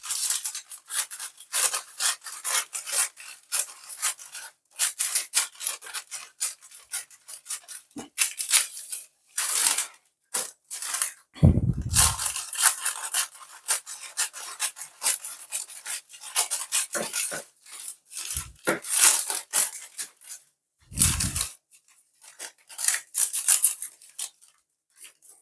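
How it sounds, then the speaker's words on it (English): Scissors cut parchment paper to line a cake pan, giving close, repeated rasping snips and slides in quick runs with short pauses and no talk. "I'm just cutting the paper to line the"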